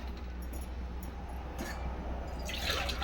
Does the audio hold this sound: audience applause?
no